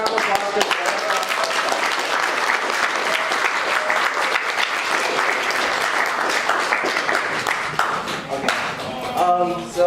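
A crowd applauds a new student representative with sustained, even clapping for several seconds, then tapers off as a voice begins speaking near the end.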